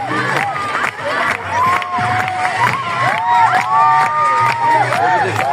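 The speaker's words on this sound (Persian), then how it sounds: "صدای دستا بیاد به شیهان انرژی بدید" Crowd cheers, whistles and shouts for Shihan, loud and continuous, with scattered whoops and children's cries over steady clapping and babble.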